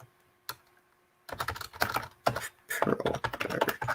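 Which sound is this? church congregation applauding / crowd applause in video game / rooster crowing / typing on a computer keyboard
typing on a computer keyboard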